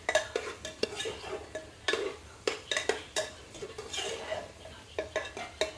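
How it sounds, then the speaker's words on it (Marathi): Vegetables for pav bhaji being sautéed and stirred in a pan, with repeated sharp clinks and scrapes of a spatula against metal in an irregular rhythm, close and clear with no talk. "आता हे सर्व आता छान परतवून घेते"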